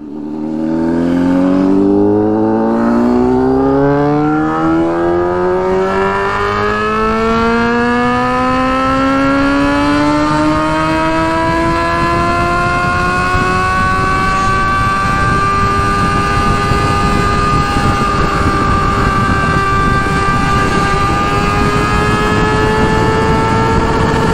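A loud Honda Hornet motorcycle engine with a 4-into-1 exhaust drones steadily at high speed on a highway, its pitch climbing smoothly and then holding as it cruises in fifth or sixth gear.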